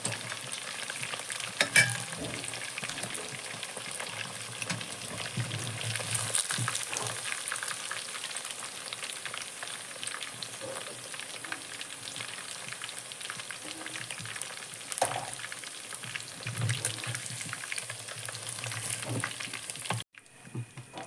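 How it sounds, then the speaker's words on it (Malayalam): Chicken pieces fry in a pan of hot oil for a home-style Kerala chicken fry, a soft continuous sizzle with faint bubbling and occasional crackles running throughout, quiet and unaccompanied by speech. "അപ്പോൾ ഇതേപോലെ തന്നെ നമുക്ക് നമ്മുടെ ബാക്കി ഇരിക്കുന്ന ചിക്കൻ കൂടി നമുക്ക് ഇതേപോലെ വറുത്തെടുക്കാം"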